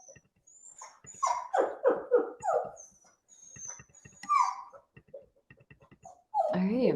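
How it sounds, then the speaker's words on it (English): A dog cries and whimpers close by, giving repeated high, wavering whines in short bursts with quiet gaps between them, ending in a louder, drawn-out cry. "Sorry for the crying dog,"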